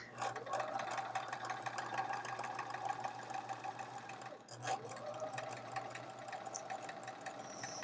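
Sewing machine stitching the last seam of a quilt block, a steady rapid mechanical hum and tapping running without a break, with a brief soft voice near the middle.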